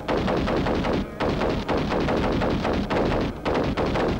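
Dense, continuous automatic gunfire from a first-person shooter video game, loud and close, with rapid repeated shots and only brief gaps between bursts.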